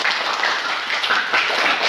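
Applause from pupils in an Indonesian classroom, a steady dense patter of many hands clapping together, fairly loud and continuous, with no talk over it.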